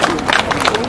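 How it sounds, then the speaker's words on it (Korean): Applause from a crowd at an outdoor candlelight rally and sit-in protest, a steady wash of clapping lasting under a second with a faint voice or tone running beneath it. "큰 박수 보내주시면 고맙겠습니다"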